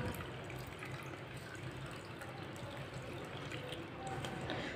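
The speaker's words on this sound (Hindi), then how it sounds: "थोड़ा सा पानी डाल लेंगे साथ।" A little water poured into a mango mixture for homemade mango juice, a soft continuous liquid pour and trickle at low volume, close and steady with no talk.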